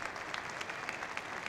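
A crowd at a squash match at the Swedish Open applauds after a rally, with steady, moderately distant clapping and no talk over it.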